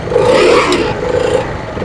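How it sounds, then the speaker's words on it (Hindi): A motorcycle engine, just started after standing out in the rain, runs with a loud, close whirring drone, a slight mechanical clatter running through it and small fluctuations in pace, with no voices over it. "ये बाइक खड़ी हुई बारिश में, अभी स्टार्ट की है"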